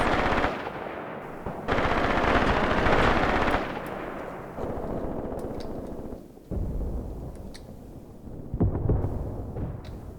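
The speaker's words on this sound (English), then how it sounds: "We are receiving a lot of covering fire from the machine guns" Sustained machine gun covering fire in the Graviteam war game: dense, loud rattling bursts that roll on almost without pause, with brief dips between volleys and a distant boom near the end.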